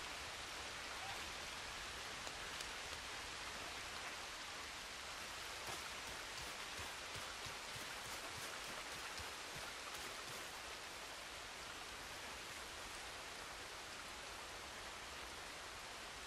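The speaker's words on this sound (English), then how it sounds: "Holy cow, this rain is insane." Heavy rainfall in the video game Red Dead Redemption 2, a dense, steady hiss of rain on surfaces filling the whole stretch without pause, fairly quiet overall and with no voices over it.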